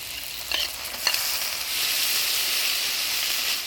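Onion, tomato and ground spice paste of onion, garlic and ginger fry with a bright steady sizzle in a pan, with a couple of sharp stirring scrapes early on, close and continuous.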